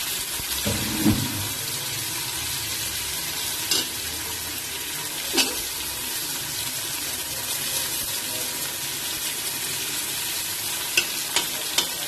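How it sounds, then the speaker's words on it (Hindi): Onions frying in hot oil in a home kitchen, a steady broad sizzle with a few stirring scrapes and clinks, close and continuous with no talking. "प्याज को फ्राई करना है।"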